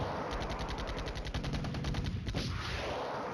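Sustained rapid automatic fire in a World War II strategy game, a steady rattling stream of close, loud shots with a heavier thump partway through and no talking.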